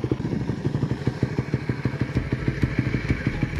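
A Raider 150 Fi motorcycle engine idling at about 1,500 RPM after a throttle body cleaning, with a steady, even thumping putter heard up close and no talk.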